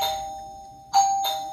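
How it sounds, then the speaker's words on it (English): A KAMTRON wireless video doorbell chime rings, sustained electronic tones that fade, then two sharper ding strikes near the end, clear and moderately loud with no talking. "And there you can hear the chime in the background,"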